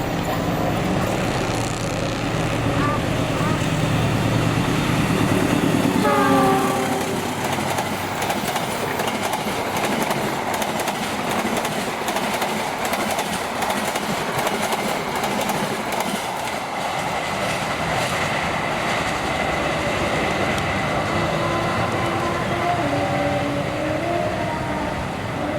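An Argo Semeru passenger train passes close by with a loud, steady rumble and wheel clatter, and a short tonal horn-like sound sounds early in the pass.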